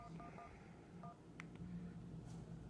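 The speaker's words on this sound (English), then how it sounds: "Let's call this line." Touch-tone dialing beeps from an iPhone placing a call, a quick series of short, distinct tones at moderate level over a faint background hum, with no talking.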